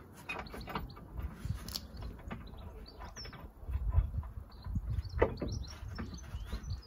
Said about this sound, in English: And then bolt it up.